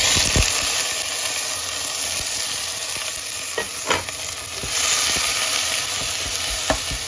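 Prawn heads and shells sautéing in a little oil, a steady loud sizzle with a few sharp pops and spatters along the way.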